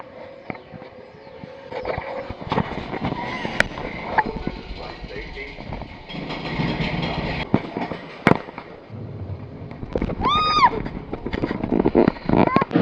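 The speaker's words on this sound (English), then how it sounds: "It is an indoor roller coaster in the dark where you're riding in a rocket through space." Indoor dark roller coaster at Magic Kingdom themed as a rocket ride through space: rattling track rumble, sharp clacks and sweeping effects with a rising electronic tone near the end, under riders' voices.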